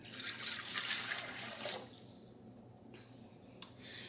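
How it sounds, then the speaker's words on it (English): Very warm water poured into a bowl, a steady splashing stream close up for under two seconds, then stopping, followed by a faint clink. "You need 2 cups of very warm water, so we're going to go ahead and put that in."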